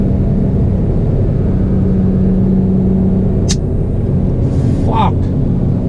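A small rock chip strikes the windshield of an E46 M3 while driving, making one sharp, bright crack over the steady low road and engine rumble inside the car, followed shortly by a brief vocal outburst.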